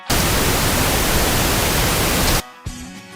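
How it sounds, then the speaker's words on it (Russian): Pink noise test signal played for sound system measurement, a loud steady broadband hiss that cuts off abruptly near the end, leaving a short faint tail of room sound. "Как правило, это розовый шум."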